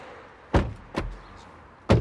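Three sharp, fairly close thuds of a car door being handled outside, each a short solid knock with a brief ring-off, spaced irregularly over two seconds with no talking.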